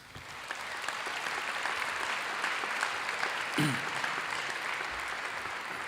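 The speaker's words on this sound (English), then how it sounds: "they deserve another round of applause, so let's give it to them" Applause from a university commencement audience honoring graduates' parents, steady clapping from a large crowd that swells slightly and holds for several seconds.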